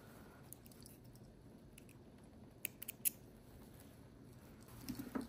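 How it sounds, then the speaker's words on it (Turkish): Scissors making a vertical cut through paper rope bag material, a few faint close snips clustered in the middle over a quiet, soft rustling background. "Ve buradan dik kesiyorum."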